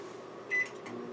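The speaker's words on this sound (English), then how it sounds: "Alexa, give the microwave 10 minutes." A microwave oven running while cooking pasta in a microwave pasta maker, a low steady hum with a couple of brief higher tones, moderately quiet and alone.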